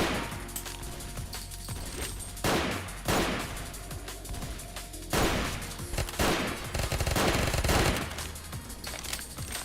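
Enemy gunfire in a shooter video game: dense, loud bursts of rapid automatic fire mixed with single shots and sharp impacts, coming in clusters with brief lulls between them.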